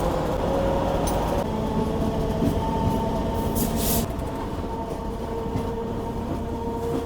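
A train entering the line at Pampore station in Kashmir, producing a continuous rumble of wheels and carriages with faint tonal squeals, heard steadily with no one talking.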